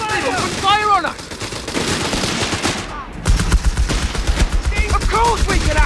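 Bursts of rapid machine gun fire crackle in a Company of Heroes 3 battle, loud and close, with rattling volleys continuing over game music and shouted soldier voices.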